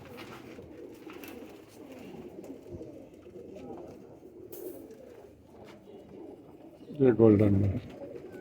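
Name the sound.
pigeons cooing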